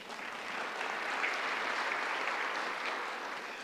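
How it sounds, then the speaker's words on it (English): Steady audience applause at a morning housing solutions forum, a continuous wash of clapping from a seated crowd that holds even for several seconds with no talk over it. "give yourselves a round of applause for being here this morning"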